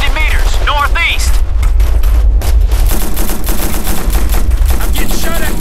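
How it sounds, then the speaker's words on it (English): Gunfire in the military shooter game Operation Flashpoint: Red River, loud bursts of rifle and machine-gun fire with heavy booming layers, with a radio-style voice speaking briefly at the start. "We're getting shot at."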